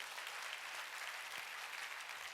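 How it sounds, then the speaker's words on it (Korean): A church congregation at a Sunday worship service claps together, a continuous even patter of many hands, faint and distant, with no voices over it. "박수 좀 쳐줘요"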